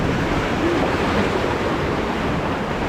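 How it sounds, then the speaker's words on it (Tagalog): Strong river current rushing past rocks while hunting along the water's edge, a loud, steady broadband roar with no breaks and no voices. "Kasi malakas pa yung daloy ng tubig."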